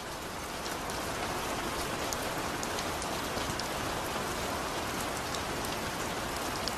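Heavy rain pours steadily, a dense, unbroken hiss of drops striking surfaces, loud and close, with scattered sharper spatters throughout.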